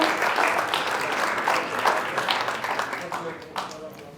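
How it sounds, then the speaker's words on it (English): An audience at a ceremonial groundbreaking press event gives a round of steady applause that fades slightly toward the end, with some voices mixed in. "If you can give a round of applause."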